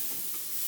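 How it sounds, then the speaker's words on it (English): Oyster and lion's mane mushrooms sautéing in a pan on the stove, giving a brief, even hiss of sizzling heard up close with no other sounds. "mushroom saute going on here."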